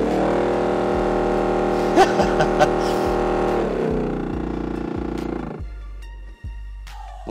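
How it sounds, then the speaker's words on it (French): A car heater fan with a dead, worn-out bearing gives a steady mechanical whirring drone inside the car, fairly loud and rough, easing off toward the end with a few brief thumps. "le roulement du ventilo est complètement mort"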